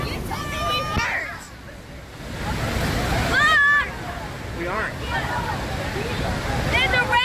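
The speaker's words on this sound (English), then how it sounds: "I'm going inside of a waterfall!" Niagara Falls roars as a broad, steady rush of water with splashing surf, while excited voices shout and talk over it.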